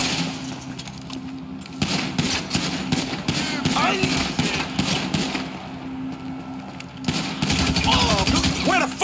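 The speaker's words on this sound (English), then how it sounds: "Shoot that son of a bitch!" Repeated bursts of automatic gunfire from a shooter video game, loud and close, mixed with game noise and overlapping shouted voices throughout.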